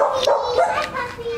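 A puppy gives a few quick, high yips and barks nearby, short and excited.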